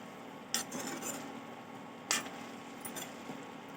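A spoon mixes a potato and onion sabzi in a pan, giving two sharp metallic clinks against the pan and a few softer scrapes and taps, fairly faint and alone.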